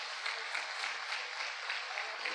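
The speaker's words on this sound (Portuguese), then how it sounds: "Você pode aplaudir Jesus por isso?" Church congregation applauding during a sermon, a steady continuous wash of clapping with no clear pauses, moderately loud and fairly close, no voices standing out.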